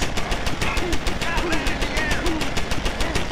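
Automated turrets in the video game Deus Ex: Human Revolution fire a loud, continuous stream of rapid, evenly spaced shots at enemies, with game sounds and faint voice-like tones running underneath.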